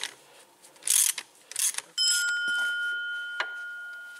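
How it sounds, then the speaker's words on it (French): A ratchet fitted with a 15 mm socket works on the alternator bolts of a Ford Fiesta ST, giving a few short bursts of clicking followed by a faint, steady ringing tone. "Une douille de 15, pardon."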